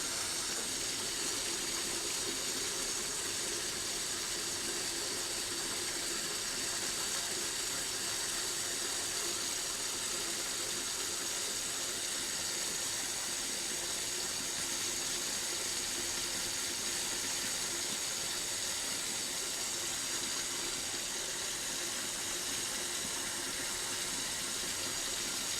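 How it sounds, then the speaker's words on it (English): A laboratory vacuum filtration setup running while palm oil saponification product is filtered, a continuous loud hissing, rushing noise with a faint pump hum underneath, steady and unchanging throughout. "I'm sorry for the noise, is we're going to use some vacuum filtration to get this."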